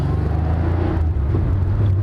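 An old Porsche 911 engine rumbles steadily at close range, a low droning hum with slight shifts in pitch as it drives on country roads, no voices present.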